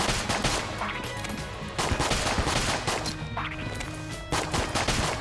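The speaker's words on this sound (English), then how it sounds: "I'm gonna use my pistol for this one." Pistol gunfire rattles through the Enter The Gungeon video game, rapid repeated shots in dense bursts over busy game music and effects, loud and continuous with brief pauses between volleys.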